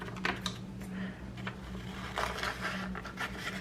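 Scissors snip a paper butterfly out of a book page at close range, giving quiet, irregular crisp cuts and light paper rustling with no talking.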